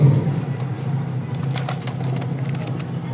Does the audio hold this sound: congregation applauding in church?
no